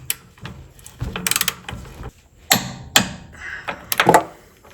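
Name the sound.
torquing suspension bolts with a wrench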